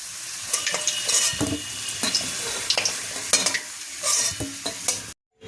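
Fried potatoes sizzle in a pan over a medium flame while a spoon scrapes and lifts them out, giving a steady frying hiss broken by repeated clattering stirs, then a sudden cutoff.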